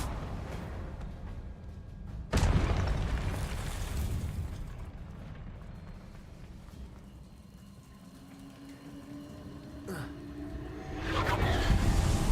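A Confringo blasting spell in Hogwarts Legacy goes off as a sudden loud explosive burst, fading into a rumbling wash, then a second blast rises near the end.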